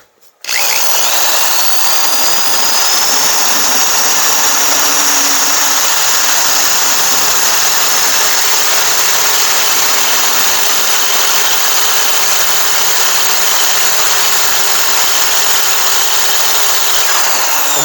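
A power drill spins a rasp bit, reaming out a flush door handle opening on a 1968-69 Pontiac GTO door; a loud, steady whine runs unbroken from start to finish with no talk.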